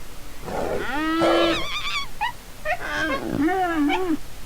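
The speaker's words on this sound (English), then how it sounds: "being evil, obviously I'm gonna go for the carnivore tiger" A carnivorous tiger creature in the video game Black & White lets out a loud, close series of growling roars and rising snarls, several distinct calls in quick succession.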